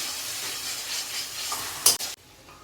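Boiled dal poured into a hot kadai of oil-fried spices, giving a steady close sizzling hiss that swells into a sharp burst near the end and then quickly dies down.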